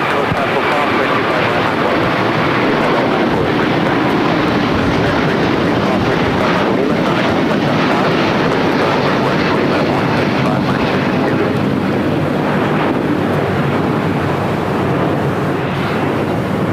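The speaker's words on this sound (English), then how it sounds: "the A350-1000 now rolling down" An Airbus A350-1000 rolls down runway 25 Right at LAX, heard as a loud, continuous broadband jet roar mixed with heavy wind buffeting on the microphone, steady throughout with no clear breaks.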